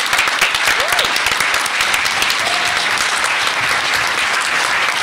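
Applause from a conference plenary audience, dense sustained clapping with a few cheers and whistles rising over it.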